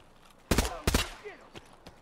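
Two sharp, loud gunshot bursts ring out in a shooter video game, followed by fainter echoing shots in the distance.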